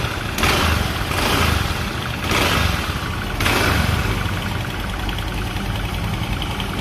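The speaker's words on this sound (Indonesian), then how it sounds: "Kita coba on kontak, starter seperti biasa. Nah, ini motornya udah mau nyala ya teman-teman." A Honda Vario motor scooter, recently stalled and now started, idles nearby with a steady loud engine drone that swells in a few brief blips of throttle before settling.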